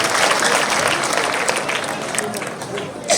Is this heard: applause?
yes